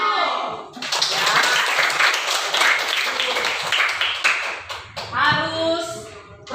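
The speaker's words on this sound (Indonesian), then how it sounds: "Tepuk tangan dulu." Group hand clapping in a classroom coaching session, dense and steady for several seconds before tapering off, with voices speaking at the start and end.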